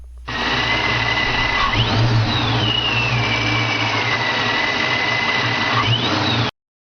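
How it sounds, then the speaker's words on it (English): A car engine's centrifugal supercharger gives a steady high-pitched whine with a rising and falling whistle on top, sustained for several seconds before cutting off abruptly. "Take a listen to the sound of a centrifugal vortex supercharger."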